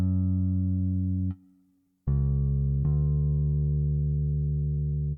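Deep synthesized bass from the free Moto Bass 2 VST plugin, playing sustained rich-harmonic notes: a held tone, a short gap, then two loud steady notes with sharp attacks, no voices.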